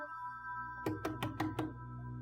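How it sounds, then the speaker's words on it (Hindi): Five firm knocks on a door in quick even succession, close and distinct over a steady background hum. "हसन दरवाजा खोलो, खाना खा लो।"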